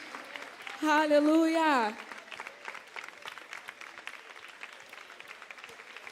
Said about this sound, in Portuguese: Você pode levantar aí no seu lugar e aplaudir mais forte a Jesus.